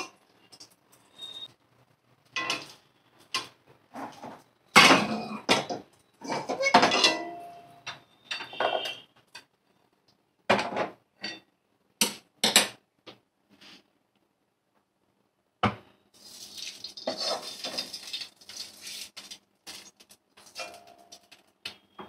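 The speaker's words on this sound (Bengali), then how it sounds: "ভালো করে নাড়াচাড়া করে নেব" A spoon scrapes and clanks against a kadai while food is stirred in a home kitchen, giving irregular bursts of metallic knocks and scraping separated by short silences, with a longer sizzling stretch near the end.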